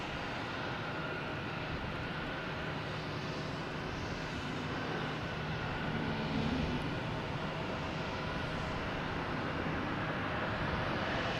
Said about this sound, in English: Actually got a JetBlue coming in from Fort Lauderdale. Coming in the close runway.